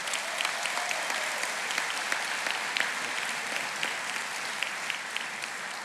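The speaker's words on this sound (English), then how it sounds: "Let's give them a round of applause as they come." A large audience claps continuously for graduates of the Newport News Shipbuilding Apprentice School at their graduation ceremony, a dense, even roar of applause sustained throughout.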